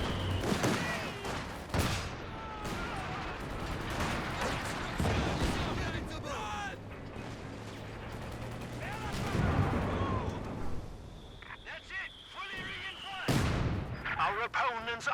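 Sniper rifle fire and battle gunfire in Company of Heroes 2, a 2v2 match: dense, continuous loud game combat with repeated sharp shots and booms, with a caster's voice talking over it.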